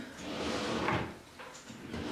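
A nail-supply storage drawer slides open or shut, a faint smooth rumble with a soft bump partway through, quiet and close, with no talk.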